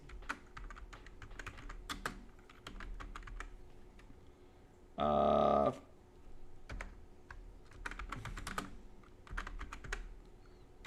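Quiet, steady typing on a computer keyboard while names are entered into a fantasy random name generator, with a short louder burst of clatter midway.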